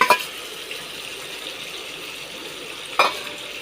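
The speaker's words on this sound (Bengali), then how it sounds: "আলু ভাজা দিয়ে ভালো করে কষিয়ে নিতে হবে।" Fried potatoes are stirred in a pan over a faint background sizzle, with a couple of sharp scraping knocks at the start and near the end.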